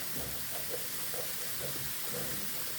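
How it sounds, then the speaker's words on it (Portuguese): Garlic frying in a pan for seasoning beans, a quiet, steady sizzle and hiss with soft irregular crackles throughout. "Deixar dourar um pouquinho mais o alho."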